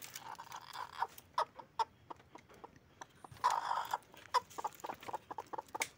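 A black hen with her newly hatched chicks, clucking in short, repeated bursts that rise and fall irregularly, close by and fairly quiet against a calm background.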